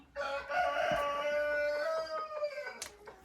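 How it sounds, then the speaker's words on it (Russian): A hen clucks and croaks in a drawn-out, rising call close by while pecking at feed shell grit, with a few soft taps and scuffs underneath. "Вот смотрите, как курица кушает кормовую ракушку."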